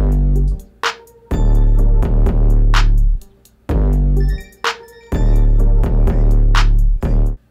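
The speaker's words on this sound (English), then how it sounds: "So all together, the beat sounds like this." A complete hip-hop beat programmed on an MPC Live, with punchy kicks, snares and hi-hats over a deep pitched bass line, looping steadily and loudly with short drop-outs between phrases and no voices.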